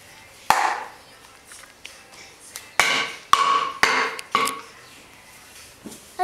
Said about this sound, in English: No, you don't hammer anywhere near the baby, okay? Or the wall. No, Link. Do not hit the wall.